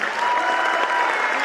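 Sustained applause fills a school awards assembly for eighth-grade mathematicians, a dense, steady wash of clapping from a large audience throughout.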